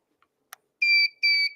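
Two electronic beeps from a 40m Super Pixie ham radio transceiver kit, each about a quarter second long, shrill and steady, separated by a brief gap after a couple of faint clicks.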